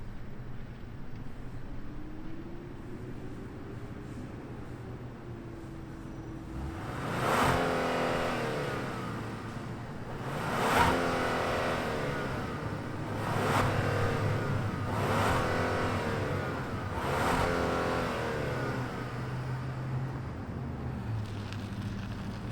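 A 2022 Genesis GV70 Sport with a 2.5-liter turbocharged inline-four starts up with a quick whirring crank and catch, then settles into a steady idle with a few sharp revs blipping above the hum, heard outdoors over a constant background hiss.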